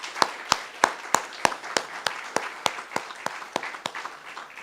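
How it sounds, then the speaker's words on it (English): A small church audience claps together after a sermon point, a dozen or so sharp, fairly evenly spaced claps over a few seconds, moderately loud with no talking. "I think we should all give ourselves a round of applause for that"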